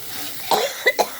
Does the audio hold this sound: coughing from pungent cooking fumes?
yes